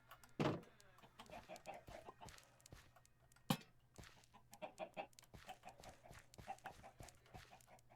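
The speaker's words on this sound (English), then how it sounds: "Chicken." Minecraft chickens cluck in soft, scattered bursts over a quiet game background, with a couple of sharper clicks and no talking.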